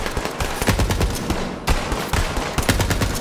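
Rapid, loud gunfire from a weapon in Borderlands 3, close, continuous bursts of shots with a brief break partway through.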